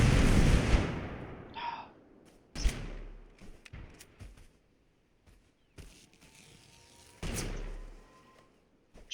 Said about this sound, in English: Shooting over my head.